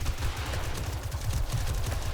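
Armor-piercing rounds fire in rapid automatic bursts in 7 Days to Die, a dense, loud, close stream of shots with a steady chattering rhythm and no pauses.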